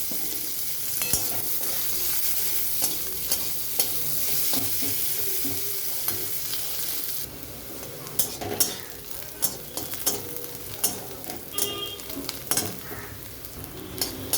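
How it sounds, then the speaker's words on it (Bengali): Soft, steady sizzling of onions and green chillies frying in a little oil, later joined by repeated scraping and stirring clicks in the pan, close and moderately quiet. "ওই অল্প তেলের মধ্যে পেঁয়াজ দিয়ে দিচ্ছে আর কাঁচা লঙ্কা।"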